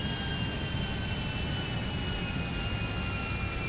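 Steady droning roar of an airplane engine in a Watch Dogs video game mission, a constant loud hum with a faint high whine, alone without voices.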